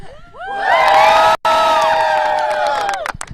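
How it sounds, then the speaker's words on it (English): Back-to-school students at George Mason University let out a loud, close group cheer of high whoops and yells that swells quickly, holds for a couple of seconds and then trails off. "Let's get one more cheer, guys."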